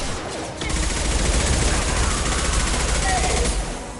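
Heavy sustained gunfire in Mass Effect 2, starting after a brief quieter moment and then roaring as a loud, continuous barrage of rapid shots that tails off slightly near the end.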